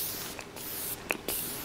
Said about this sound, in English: That is a light spray, but it still puts a little bit of glow back into my makeup.